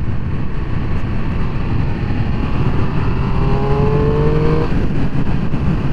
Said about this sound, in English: so I'm just warming the bike up at the moment